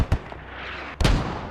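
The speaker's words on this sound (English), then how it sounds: "Mortars, oh man" Mortar strikes in the tactical shooter Squad land as two heavy blasts, a short sharp thump followed after a pause by a louder booming impact that rumbles and fades.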